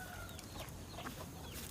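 Chickens clucking quietly at a distance in an Indonesian horror film, soft scattered clucks over a hissy background.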